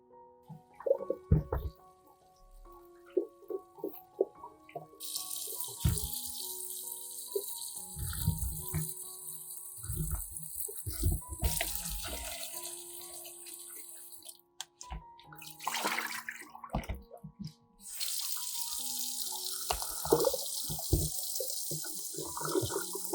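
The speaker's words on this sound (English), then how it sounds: "Wash the garlic under running water." Tap water runs over garlic cloves being washed in a kitchen sink, gushing in several bursts with pauses and clinks of handling in between, with no talking.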